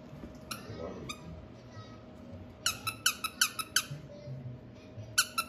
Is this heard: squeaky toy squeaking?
yes